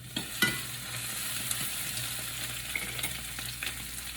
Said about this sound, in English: Let me give you a quick stir.